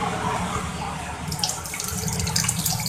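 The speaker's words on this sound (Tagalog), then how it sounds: "Tubig pala ang laman." Water gushes steadily out of a faulty vehicle's gas tank that held water instead of fuel, a continuous close splashing pour with no speech.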